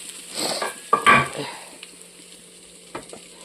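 Beef goes into a pan of fried spices for a curry, a brief burst of sizzling and spoon clatter against the pan that quickly settles into a faint, quiet frying hiss.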